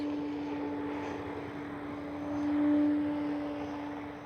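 E-flite Carbon Z T-28 electric RC airplane passing overhead at under half throttle, a steady propeller whine with a constant tone that swells briefly as it comes nearer, heard alone outdoors.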